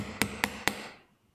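Chisels and gouges struck with a hammer or mallet, giving three evenly spaced sharp knocks that ring briefly and then fade to quiet.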